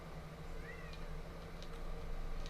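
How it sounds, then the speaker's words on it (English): A pet cat meows briefly, a faint rising-falling cry partway through, heard over a steady low hum in an indoor room. "there's my fucking cat who was just begging to get out of my room a few minutes ago"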